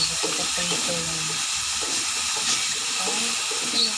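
Carrots and potatoes frying in a pan for pininyahang manok, a continuous bright sizzle and hiss held steady throughout, with faint tonal sounds and light voice-like murmurs underneath.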